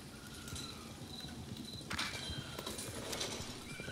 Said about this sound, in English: I hear horses coming.